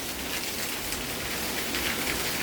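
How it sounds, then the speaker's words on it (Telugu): Steady, dense rainfall pours down without pause, a loud hissing wash of heavy rain close by. "బయట పెద్ద వర్షం వస్తుంటే"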